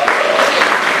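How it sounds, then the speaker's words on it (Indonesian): Loud, close clapping from an audience at an Islamic youth talk, a thick burst of applause filling the whole moment. "tepuk tangan buat beliau"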